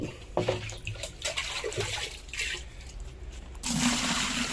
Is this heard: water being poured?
yes